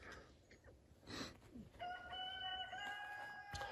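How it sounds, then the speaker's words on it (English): A rooster crows once on a homestead in Latvia, a long drawn-out call rising clearly over faint outdoor background noise. "Morning, Mr. Cockerel, if you can hear that on the video"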